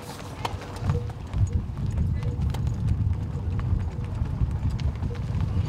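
Horses trot on a mountain road during a ranch horse drive near Jardine, hooves clip-clopping in a steady, overlapping rhythm that carries loudly and continuously throughout.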